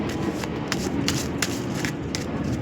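Tarot cards being shuffled by hand, a series of quick crisp riffling snaps at an irregular pace over a soft steady background hum.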